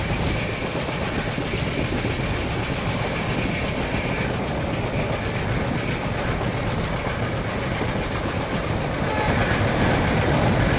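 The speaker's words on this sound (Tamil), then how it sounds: "50 தாண்டிட்டாலே ஓரளவுக்கு ஃபாஸ்ட்டாகவே போகும் ட்ரெயின்" A passenger express train, the 15624 Bhagat Ki Kothi Express in the Train Simulator (MSTS) game, runs fast on the tracks after leaving Patna. It makes a loud, steady rumble with continuous clickety-clack of the wheels throughout.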